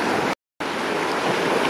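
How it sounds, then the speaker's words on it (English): Sea waves wash steadily against a rocky shore at Koh Samet, a loud broadband roar of surf with wind, briefly cut by a moment of silence before continuing. "few more waves here."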